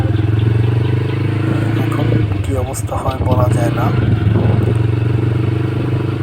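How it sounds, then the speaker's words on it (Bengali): A motorcycle rumbles along a village road under construction at Longsing, its steady engine drone loud and close throughout, with someone talking over it. "তো এই যে বাইক চালাচ্ছি"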